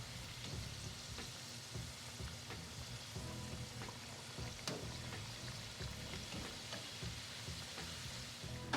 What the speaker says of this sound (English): I'm going to use my frying strainer tool to put the wontons in the oil